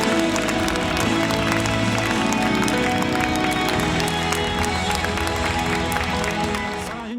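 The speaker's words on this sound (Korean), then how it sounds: "神に拍手を捧げて栄光を捧げましょう。" A church congregation applauds during a Sunday worship service, dense continuous clapping with crowd noise that holds steady for several seconds before tapering slightly at the end.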